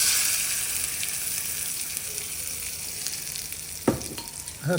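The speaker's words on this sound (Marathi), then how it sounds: "चर आवाज येतो छान" Hot oil tempering sizzles loudly as it hits a tomato and fresh coconut chutney, a bright crackling hiss that slowly fades, with a couple of stirring clinks near the end.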